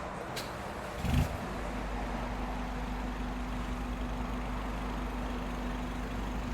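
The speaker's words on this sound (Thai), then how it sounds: "ขออนุญาตสตาร์ทรถก่อน" The 1.9-litre engine of a 2022 Isuzu D-Max Spacecab X-Series manual pickup cranks and catches with a short, heavy burst, then settles into a steady, low idle with a constant hum.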